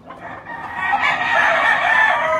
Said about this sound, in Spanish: pero ya es un gallo de los de Brian Esari